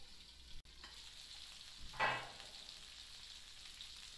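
Pork jowl frying in a pan for adobong puti, a quiet steady sizzle with one brief louder hiss of spattering midway, and no voices.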